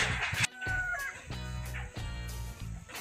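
Chickens clucking and a rooster crowing outdoors at a farm plot on a windy day, the calls loud and close, repeating in bursts over rustling background noise.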